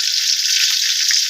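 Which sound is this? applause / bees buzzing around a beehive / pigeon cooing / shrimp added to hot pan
shrimp added to hot pan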